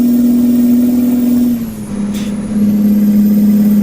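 A Kenworth T100 truck engine in American Truck Simulator drones at a steady, loud pitch, briefly dipping lower before settling back into the same heavy hum.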